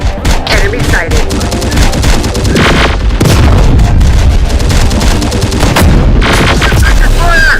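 Relentless battlefield gunfire in Terminator Dark Fate Defiance, rapid overlapping shots, fusillades and heavy booms roaring loudly and continuously, with occasional shouted voices underneath.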